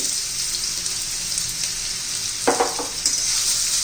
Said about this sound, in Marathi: तेल गरम झाले त्यामध्ये ना आपण हा दोडका घालून घेऊ